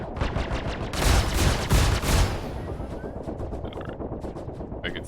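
Bursts of gunfire and explosions in the Star Citizen space combat game, dense and loud, with heavier blasts near the start, then lighter rapid shots and crackling impacts continuing throughout.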